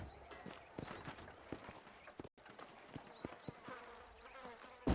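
Horse hooves clip-clop across ground in Red Dead Redemption, a string of sharp, fairly close hits in an uneven trotting rhythm. A faint insect-like buzz runs underneath, and the sound cuts out for a split second midway.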